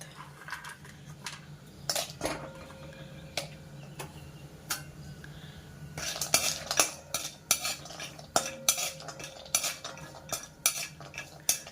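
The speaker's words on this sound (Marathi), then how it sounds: "आता आपल्याला त्यात ड्रायफ्रूट्स जरा तळून घ्यायचे." Dry fruits frying and being stirred in a spoonful of ghee for dink ladoo, with repeated metallic spoon scrapes and clinks against the pan, sparse at first and then busier and louder.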